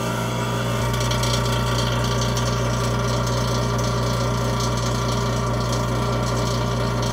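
Vacuum casting machine drawing a vacuum, a loud, constant pump hum and mechanical drone with a steady buzzing texture, unbroken for the whole stretch.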